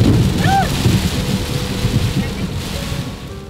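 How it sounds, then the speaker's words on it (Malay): Heavy rain with thunder: a dense, loud downpour hiss over low rumbling that rolls and fades across the short stretch, with a faint whistling tone early on. "Kami dihantar dengan hujan yang sangat lebat, mengaburkan pandangan kami"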